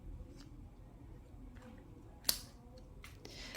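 Scissors snip through geranium (pelargonium) leaves during a summer pruning, a single sharp cut standing out near the middle with a few softer rustles and clicks around it, close and otherwise quiet.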